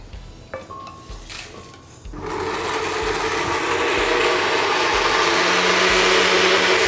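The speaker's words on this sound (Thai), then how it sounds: "นี่เป็นเบนเดอร์ต้องใช้ความชื้น" Faint knocks and handling sounds come first, then a blender starts up on Northern Thai chili paste made with tofu and a little water, settling into a loud, continuous whirring roar close by.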